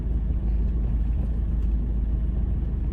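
Manual-transmission car being driven by a learner, heard from inside as a steady, low engine and road rumble that stays even throughout.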